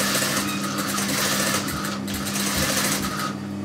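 A sewing machine runs steadily and loudly throughout, its fast motor whirr continuous with a constant low hum and slight variations in pace.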